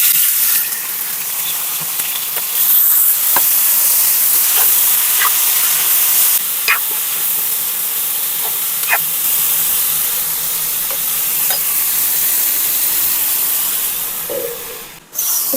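Baby bitter gourds fry in hot oil with curry leaves, a loud continuous sizzle broken by sharp clicks and scrapes of stirring in the pan. No one speaks.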